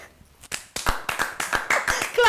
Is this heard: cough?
no